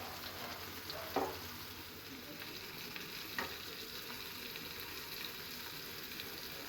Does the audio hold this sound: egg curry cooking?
yes